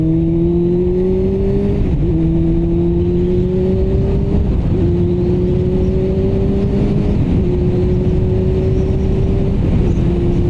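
Motorcycle engine held at high revs, its drone climbing steadily and dipping briefly at each of several clutchless upshifts through the gearbox; loud, close, continuous, with no talk.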